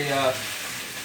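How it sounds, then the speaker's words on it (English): A short burst of loud, crackling sizzle from beef frying in a hot pan, steady and close. "So you can hear that sizzling in the background there."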